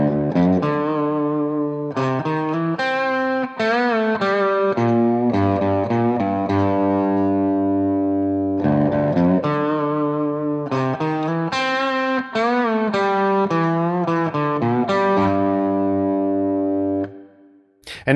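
Distorted electric guitar plays the lead line from a song's chorus, a loud, sustained run of bending, overdriven notes with short gaps between phrases, heard alone and cutting off at the end.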